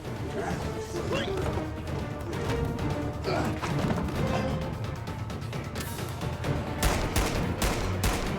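Bursts of gunfire and crashing impacts fill a chaotic, dense action scene, with sharp cracks rising near the end over a constant rumbling background.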